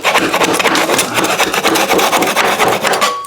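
A tool scrapes excess thin-set mortar off during bathroom tiling, making a continuous, close, gritty rasping with rapid strokes that runs steadily throughout.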